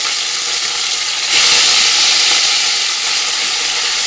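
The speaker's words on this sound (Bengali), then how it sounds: "মোরলা মাছগুলো হলুদ নুন মাখানো আছে সেগুলো কিন্তু আমি সব দিয়ে দেবো" Turmeric-and-salt-coated morola fish hit hot oil in a steel wok, setting off a loud, close, steady sizzling hiss that swells sharply as they go in and then holds.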